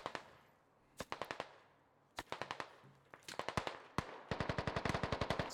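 Rapid automatic gunfire in the video game Squad, arriving in short bursts of several shots and then a longer sustained string of fast rounds, sharp and fairly close with brief gaps between volleys.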